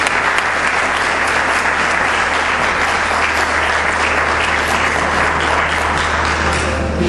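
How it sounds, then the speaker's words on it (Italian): A theatre audience at an arts venue opening applauds in a loud, sustained, even wash of clapping with a low steady hum underneath. "Facciamo un applauso a questo sogno"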